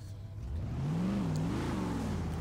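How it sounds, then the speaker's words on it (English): A tuned V8 engine of a 1970 Chevy Chevelle in Forza Horizon 3 revs up with rising and falling pitch during a second-gear launch, a smooth continuous drone that climbs then dips, with no one talking. "Car sounds amazing."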